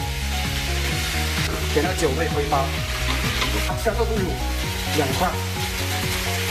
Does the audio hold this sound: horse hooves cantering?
no